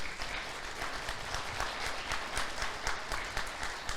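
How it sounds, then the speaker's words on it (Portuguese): Congregation applauding for God during a church sermon, a steady dense clapping that holds at even strength throughout, with no speech over it. "Aplauda o Senhor por isso."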